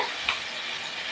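Fish frying in a pan for a Bengali fish curry, a faint steady sizzle with a soft splash as a piece is added, no talking.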